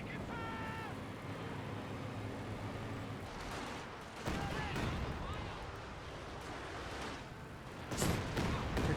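A Company of Heroes 2 artillery barrage rumbles in the background of a battle, with booming impacts surging toward the end under a voice speaking.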